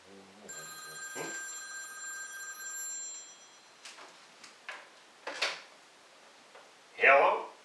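A telephone rings with a bright electronic trill near the start, followed by scattered clicks and handling noises, then a short voice at the end.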